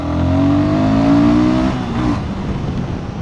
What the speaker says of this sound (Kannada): ಈ ಗಾಡಿಲಿರೋದು 452cc single cylinder liquid cooled engine.